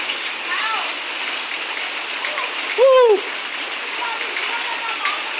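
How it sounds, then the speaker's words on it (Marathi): Rain falls steadily in Ramgad village, Malvan taluka, Sindhudurg, a continuous dense hiss throughout, broken once midway by a short tonal bird-like call. "हा पाऊस लय पडता असा रामगडात."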